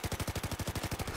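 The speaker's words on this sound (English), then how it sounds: "Killing snipers with a machine gun 500 meters away, efficiently" Rapid automatic fire from a machine gun in Battlefield 4, a steady burst of about thirteen evenly spaced loud shots over a little more than a second, with no talk.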